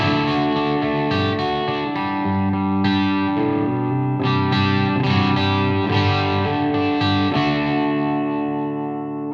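Electric guitar through an ENGL Special Edition E670 amp, clean channel with gain boost, a touch of grit, strummed chords and notes sustaining with slight crunch; full, loud, and continuous with no talking.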